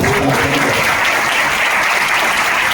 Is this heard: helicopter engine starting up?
no